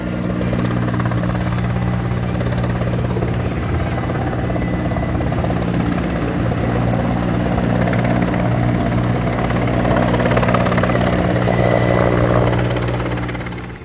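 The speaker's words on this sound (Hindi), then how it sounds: "उत्तर से दक्षिण और पूर्व से पश्चिम हर तरफ वायुसेना के विमान अस्पतालों पर पुष्प वर्षा करने लगे" Indian Air Force aircraft flying over hospitals in a flypast honouring coronavirus workers, a loud, steady rotor-and-engine drone holding throughout with no talk over it.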